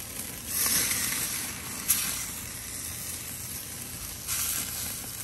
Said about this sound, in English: We're going to flip our steaks.